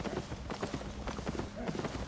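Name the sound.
horse hooves clip-clopping in Albion Online video game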